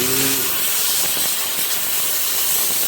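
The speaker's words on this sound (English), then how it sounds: "to rinse that off a little bit, come over this way to the steam machine" A Diamondjim jewelry steam cleaning machine blasts a ruby and diamond ring, a loud, continuous, close rushing hiss that holds steady throughout.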